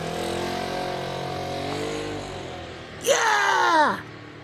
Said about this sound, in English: we just had a four-wheeler come by